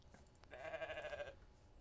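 A goat bleats once in the farm game The Stillness of the Wind, a single quavering bleat under a second long, quiet and alone against soft background noise.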